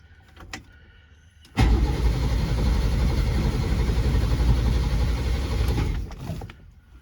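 A 1961 Renault Dauphine engine cranks over for about four seconds while trying to start, a loud, steady churning drone close by that stops abruptly, with quieter mechanical clicks before and after and no speech.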